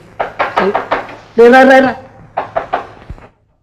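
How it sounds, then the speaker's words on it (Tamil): Knocking on a door comes in sharp, close raps, a quick run of about five knocks and then three more, with a voice calling out loudly between the two groups. "யாரா கதவை தட்டுறது?"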